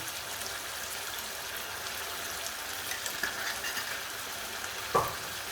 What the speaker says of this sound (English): With our meat toasting